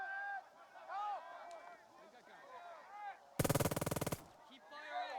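A sharp rapid volley of gunfire in the World War II game Burden of Command, with soldiers' voices and battle chatter in the background before and after the loud, close burst.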